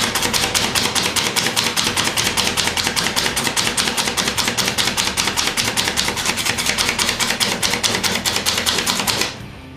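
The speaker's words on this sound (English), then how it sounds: "we're going to take some of these walnuts and see about this quick chop and see how well it works" Walnuts chopped in a quick chop manual chopper, a rapid loud string of sharp clacking strikes at a steady, fast rhythm for nearly ten seconds before it stops.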